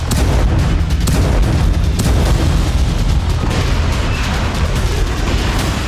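Loud, continuous rumbling barrage of explosions and artillery fire in the Ukraine war, with deep booms and sharp bursts overlapping steadily without a break.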